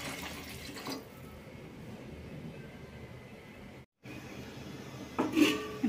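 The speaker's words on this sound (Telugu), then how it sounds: "ఇప్పుడు వాటర్ పోసుకున్నాం కదా" About three glasses of water are poured into a cooking pot of fried vegetables for pulao, making a soft, steady splashing rush. It breaks off briefly, resumes, and ends with a louder clatter.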